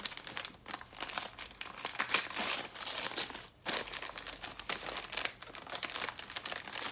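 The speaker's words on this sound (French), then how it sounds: "Je sais plus déballer des papiers cadeaux." Continuous close crinkling and rustling of gift wrapping paper being unwrapped, with occasional tearing sounds and brief pauses, loud and busy throughout.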